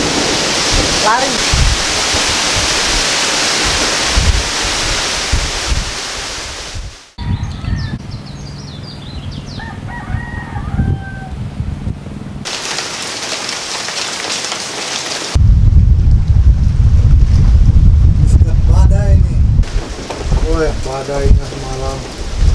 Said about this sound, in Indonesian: Badainya semalam.